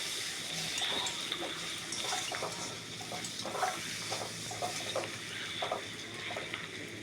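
A pan of fish curry with potatoes, eggplant, onion and turmeric is stirred, making faint, steady sizzling and soft scraping strokes in a quiet kitchen, with no talking.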